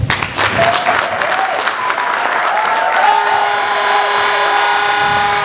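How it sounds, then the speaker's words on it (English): Loud, sustained applause at a school graduation ceremony, a thick wash of clapping that carries on while steady sustained tones rise beneath it in the second half. "Another round of applause for them"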